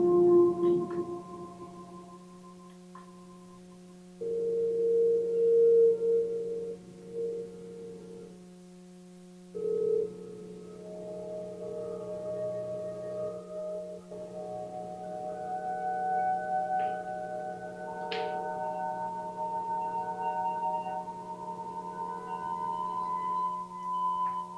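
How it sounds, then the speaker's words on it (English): Synthesized bell tones ring out in sustained, layered pitches with a short reverb tail, several notes stacking and overlapping at moderate level over a steady low drone, no voice. "put a little tiny tail of reverb on it. And I'll use more of like a bell tone with this."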